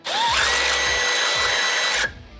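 A power drill whines loud and close as it bores a hole during a supercharger kit install on a Nissan D41 Frontier, the motor spinning up, holding a steady high pitch for about two seconds, then cutting off.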